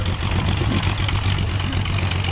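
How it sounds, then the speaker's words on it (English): A vintage aircraft engine at a WWI air show drones continuously with a low throbbing tone, loud and close, no voices. "So you hear the engine powering away"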